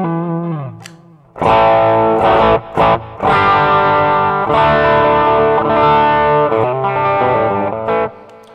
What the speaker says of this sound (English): When I press this, you're going to have your overdrive but no reverb.